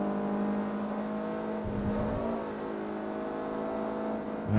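A front-wheel-drive race car in Forza Motorsport 3 holds a steady, loud engine whine, pitch shifting slightly as it accelerates, with other cars' engines blending in around it and no talk.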